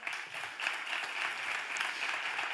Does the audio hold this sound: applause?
yes